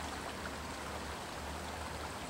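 Mammoth Creek in Mammoth Lakes, California flows steadily behind a condo unit, a constant broadband rush of running water with no breaks and no voices.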